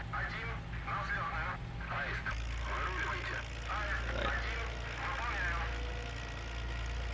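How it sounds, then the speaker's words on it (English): Propeller plane engine in IL-2 Sturmovik during strafing practice, a steady low drone with a whirring pulse running continuously beneath someone talking throughout, fairly quiet overall. "the whirly sound this plane makes"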